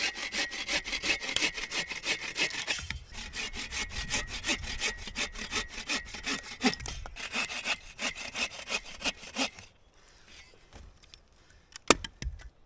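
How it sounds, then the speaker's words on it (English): Agawa folding saw cutting firewood logs at a campsite, with fast, rhythmic strokes close up for about ten seconds, then a few scattered knocks as the cut finishes. "This Agawa Saw makes light work of being able to cut up bigger logs."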